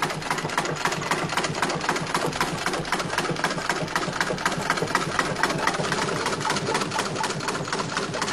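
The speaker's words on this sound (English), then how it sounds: "it involves a sewing machine and yards of canvas material." A sewing machine stitching canvas runs steadily and loudly throughout, its rapid mechanical stitching rhythm continuous with no pauses or voices.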